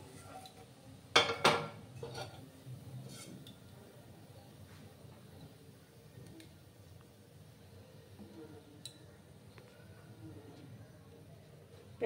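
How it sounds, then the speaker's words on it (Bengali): A pan is set down on a kitchen stove with a brief metallic clatter early on, followed by a long stretch of quiet room background. "আমি আরেকটা প্যান বসিয়ে দেব।"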